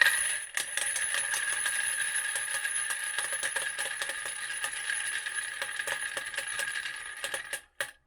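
A handful of 45-caliber brass cartridge cases shaken in a Double Alpha Mini case feeder bowl, a continuous bright metallic jingling and clinking for several seconds, close and steady, ending in a few last clinks.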